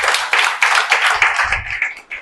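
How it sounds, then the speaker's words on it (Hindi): Audience clapping during an anniversary speech, a quick burst of hand claps that starts strong and thins out over two seconds, close and loud, with a brief low rumble partway through. "बजाओ तालियां बहुत जोरदार"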